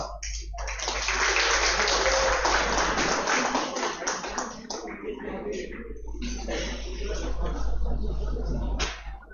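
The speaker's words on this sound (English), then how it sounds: "please join us with a warm round of applause" A hall audience at a college hackathon event applauds warmly to felicitate the chief guest, a sustained wash of clapping that swells and fades over several seconds, with voices mixed in.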